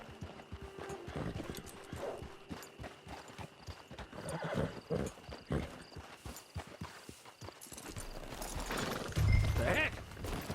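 Horse hooves clip-clop steadily at close range in Red Dead Redemption 2, with a loud whinny near the end, while voices talk over the game's ambient background.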